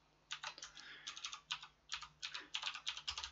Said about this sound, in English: we're going to be typing that in for our name